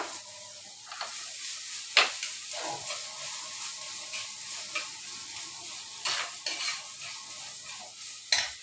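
Mustard seeds sizzling and popping in hot oil in a pan, with steady frying hiss, occasional sharp pops and the scrape and clink of a spoon stirring, close and fairly quiet.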